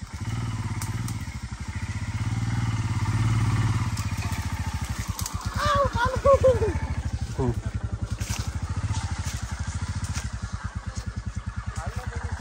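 A motorcycle ridden off-road on a rough village trail, its engine chugging in a fast steady pulse close by for the whole stretch, with clattering bumps partway through.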